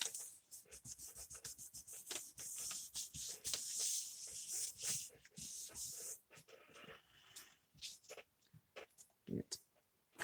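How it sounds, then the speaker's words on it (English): A hand rubs firmly over paper laid on a Gelli plate with a doily beneath, giving close, uneven scratchy swishes in bursts and pauses, with a voice talking in between. "And we'll just rub real good around that doily."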